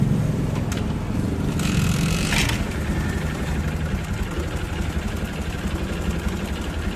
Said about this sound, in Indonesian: kita hidupin motor